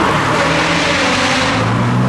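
A loud Nissan 350Z at a supercar show, its engine droning and rumbling steadily and close by, with no talking.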